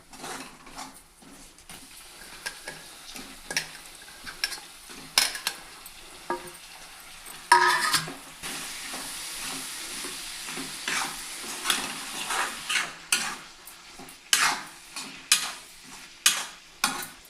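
Broad beans tossed into a hot tempering pan and stirred as they fry, a soft continuous sizzle under repeated scraping and clinking of a spoon against the pan.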